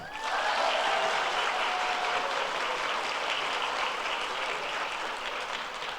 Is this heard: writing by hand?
no